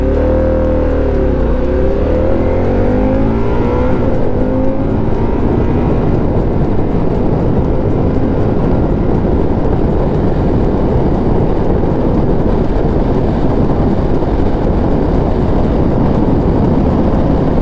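A Harley-Davidson Pan America 1250 adventure motorcycle accelerates hard on a ride, its engine rising in pitch at first and then settling into a loud, steady roar mixed with wind rush throughout, with no talking.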